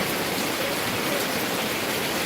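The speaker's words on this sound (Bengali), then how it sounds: "আজকে আমাদের এখানে প্রচণ্ড বৃষ্টি হচ্ছে" Heavy evening rain in Dakshin Dinajpur, a steady, dense roar of downpour filling the whole stretch without a break, close and loud with no voices.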